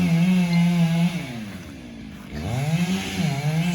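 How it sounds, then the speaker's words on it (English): A chainsaw drones steadily, its engine pitch dipping and rising again as it bogs down and revs, heard from some distance. "hear the chainsaw"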